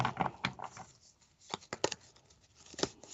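Soft, brisk riffling of tarot cards being shuffled in short bursts with quiet pauses between, close by and without talking.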